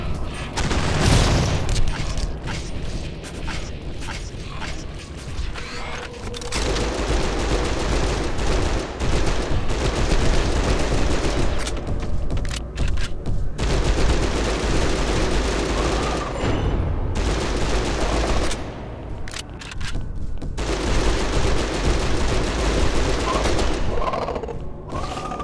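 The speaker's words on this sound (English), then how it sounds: "See, here's where I should switch over to my my machine gun." Rapid machine-gun bursts and booming gunfire in the Hunter: The Reckoning video game, loud and nearly continuous with short pauses between bursts, no talk over it.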